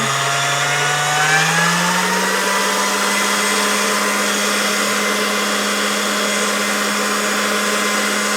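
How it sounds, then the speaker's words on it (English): A motorized pasta machine rolls polymer clay, giving a steady mechanical whir with a low hum that rises in pitch at the start, then holds constant and loud throughout, with no voices. "let me run this through the pasta machine"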